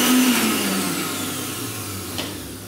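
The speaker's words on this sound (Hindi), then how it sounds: "ये सब चीजों को हम अभी मिक्सी में अच्छे से घुमा लेते हैं ताकि ये जो बादाम है इसके भी पाउडर हो जाएंगे" A mixer grinder whirs as it powders almonds with dry cookie ingredients for chocolate almond cookies, a loud steady motor drone that slowly fades slightly over a few seconds, with no talk.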